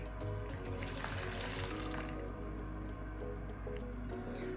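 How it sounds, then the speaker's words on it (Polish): Warm water, 150 ml, pours steadily into bread roll dough ingredients in a continuous splashing stream, close by, with a low hum underneath and no speech. "i dajemy 150 ml"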